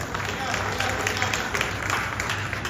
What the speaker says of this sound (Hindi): थोड़ा रंग में आते रहिए, तालियां बजाते रहिए।